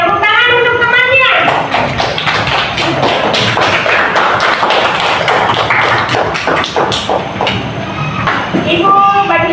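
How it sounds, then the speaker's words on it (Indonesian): A classroom of children claps for a classmate, ragged and steady clapping lasting several seconds, with an adult voice speaking briefly before and after. "Oke, tepuk tangan untuk temannya"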